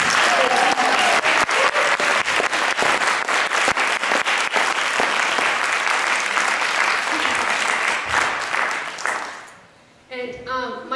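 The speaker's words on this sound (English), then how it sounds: "I want to applaud." An audience at an evening literary reading claps for the host. The dense, loud applause holds steady for about nine seconds, then thins and fades, and a voice follows briefly.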